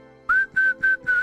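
Four whistled notes of a song, each a sustained tone with slight pitch bends, separated by short gaps, close and clear with no talking.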